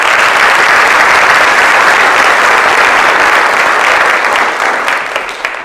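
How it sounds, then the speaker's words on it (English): An audience at a high school senior awards ceremony gives a loud, sustained round of applause that fades slightly toward the end. "let's give them a round of applause first"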